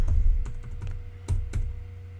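Keystrokes on a computer keyboard while entering comments in an Excel 2016 spreadsheet, a close series of uneven taps and clicks with a low background hum and no talking.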